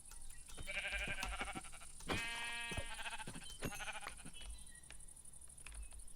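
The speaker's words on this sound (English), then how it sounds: "I think I saw another sheep up over here" Sheep in a Minecraft game bleat repeatedly, several wavering electronic-sounding calls over a steady background hum and game sounds, with no voices.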